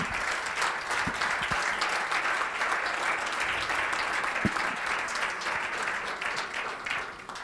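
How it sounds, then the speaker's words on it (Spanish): Steady applause from a lecture audience after a conference talk, dense clapping filling the whole stretch with no talk. "un aplauso"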